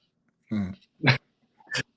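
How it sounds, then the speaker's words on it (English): A puppy's whimpers: three short, close, high-pitched yelping cries spaced about half a second apart, with silence between them. "my puppy went through my cables when I was talking"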